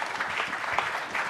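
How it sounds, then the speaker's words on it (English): Brief burst of audience applause in a hotel function hall as a guest is called up on stage, a soft even patter of many hands heard from a distance. "Can we have a round of applause, please?"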